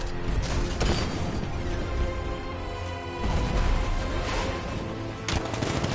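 Rapid cannon fire in the video game Fortnite, dense loud bursts of gunfire rattling continuously with heavier booms, close and unbroken, with no talk over it.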